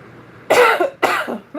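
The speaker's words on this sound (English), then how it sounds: "Let me get something to drink because my throat is dry. That's why I keep dry coughing." A dry cough from a person with a parched throat: two quick, harsh, close bursts in succession, loud and alone, followed by a short breathy catch.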